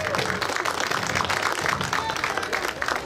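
An outdoor crowd at an evening walking event in Bodegraven claps and applauds steadily, a dense even wash of hands lasting a few seconds.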